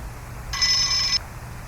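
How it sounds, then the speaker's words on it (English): A phone rings with an incoming call, one short bright electronic ring tone lasting about two thirds of a second, loud and close against a quiet background. "hold on, I have a phone call"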